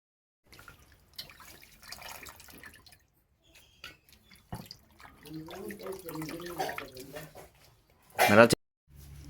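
Country chicken pieces being washed in water in a home kitchen, with splashing and dripping that stops and starts, a loud burst of water near the end, and someone talking over parts of it.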